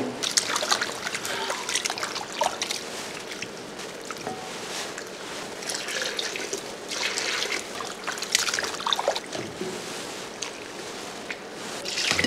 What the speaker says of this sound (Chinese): 倒水多洗几遍，洗干净。